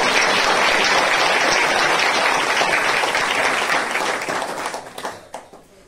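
A church congregation claps loudly in praise, a dense, continuous roar of hands that holds strong and then thins out and trails off near the end.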